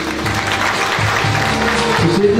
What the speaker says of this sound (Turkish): Sayın Başkan'ın alkışlarla uğurluyorum kendini.